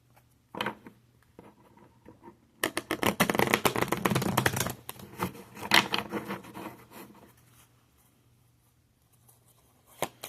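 Tarot cards shuffled by hand in a quiet room, a few soft riffles and taps, then a dense burst of rapid flicking and slapping cards for about two seconds, trailing off into scattered light shuffles.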